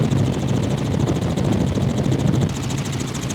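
A small aircraft flies over the Okavango Delta, its engine giving a loud, steady droning roar with a fast rhythmic chop, heard close from inside the cabin without any talk.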